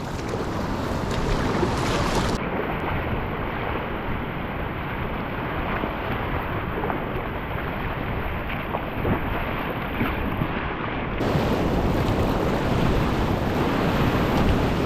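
A packraft runs river rapids on the Lower Dumoine River: continuous loud rushing, splashing whitewater with wind buffeting the microphone, heavier surges near the end.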